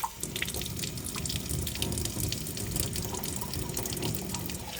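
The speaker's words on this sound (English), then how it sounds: "keep rinsing, mostly to get the vinegar off right now because I want to put soap in here" A steady run of tap water splashing into a sink as tiny glass balls are rinsed clear of vinegar, continuous and fairly close with faint drips and clinks, and no talking.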